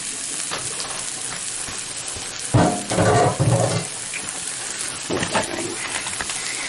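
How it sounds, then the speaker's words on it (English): Leeks and mushrooms sizzling in a pan as they are stirred, a soft steady crackle with brief louder bursts of scraping and movement, close by and fairly quiet, with no talking. "I'm going to keep my pan going and warm, and I'm going to let all this stuff cook down so it all starts to get brown"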